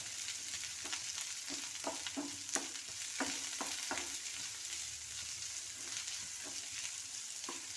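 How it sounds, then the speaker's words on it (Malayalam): Chopped onions sauté in a pan, sizzling softly under repeated scraping strokes of a spoon stirring them at an uneven rhythm, close and fairly quiet with no voices. "ഇനി ഇതിലേക്ക് നമ്മൾ എടുത്ത് അരിഞ്ഞ് വെച്ചിരിക്കുന്ന സവാളയാണ് ഇട്ട് കൊടുക്കുന്നത് ഇത് നല്ലതുപോലെ ഒന്ന് വഴറ്റിയെടുക്കാം"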